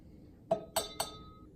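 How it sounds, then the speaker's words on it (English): Homemade Instant Pot wine dripping through a filter into a wine glass, giving three distinct, faint glassy plinks spaced evenly apart in a quiet room. "you can filter that into a wine glass"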